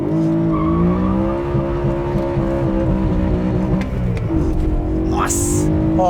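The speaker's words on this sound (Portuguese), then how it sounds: "Eu vou dar uma paradinha aqui e dar uma girada para vocês entenderem o que é esse motor." A V8 engine revs hard in a garage, a loud, sustained roar with rising and falling pitch as the throttle is worked, and a short high burst near the end.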